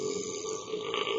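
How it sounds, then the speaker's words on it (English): A single drawn-out burp rumbles close to the microphone for just over a second, loud and continuous, with no other sound around it. "I got one more burp in me."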